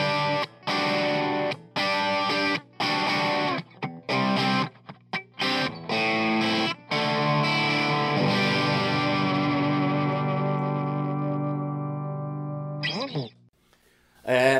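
Electric guitar played through a Blues Driver overdrive pedal at moderate gain: choppy, gritty chords cut off in short bursts, then one long chord rings out and decays before a final stab.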